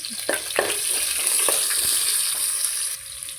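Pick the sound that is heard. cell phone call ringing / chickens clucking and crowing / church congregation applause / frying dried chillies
frying dried chillies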